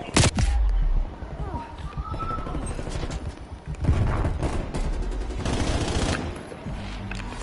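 Rapid bursts of OTS 9 submachine gun fire in Call of Duty: Cold War multiplayer, loud and dense, starting with a heavy opening volley and recurring in clusters throughout, with a voice talking underneath.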